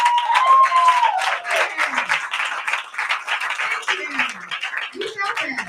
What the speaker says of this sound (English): Clap one more time for